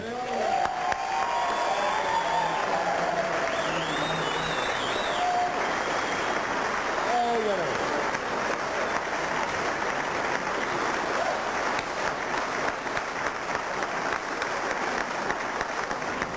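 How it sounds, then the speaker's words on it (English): Applause from a crowd at a 1992 GM motorsports awards banquet, steady clapping that runs the whole stretch at moderate level, with a few brief tonal sounds and murmurs early on. "Come on, folks. Another round of applause."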